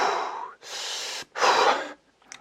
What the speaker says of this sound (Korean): 거친 숨소리가 여기에 해당할 가능성은 있겠죠.